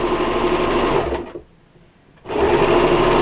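A sewing machine stitching down the middle of a small doll apron tab runs in a steady, close whirring drone, stops for about a second, then starts again.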